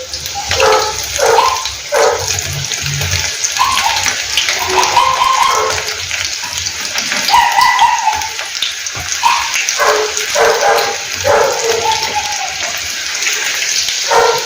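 Okra pieces fry in hot oil on a stove turned up high, with a continuous bright sizzling hiss and irregular spattering crackles throughout.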